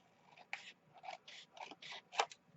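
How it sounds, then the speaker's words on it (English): Scissors cut a paper advertisement off a card: about seven quiet, close, crisp snips in an irregular rhythm, each a short dry crunch of blades through paper, with no talking. "cut the advertisement off"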